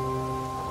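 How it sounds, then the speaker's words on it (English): Steady rain falls on a surface as a dense, even hiss, with faint low tones beneath it, in a very short clip with no voices. "causing it to fall as life-sustaining rain"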